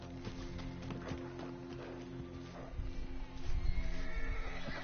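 In the video game Red Dead Redemption 2, a horse whinnies amid rapid clip-clop hoofbeats and scuffling, with a low steady hum underneath; moderately loud and close.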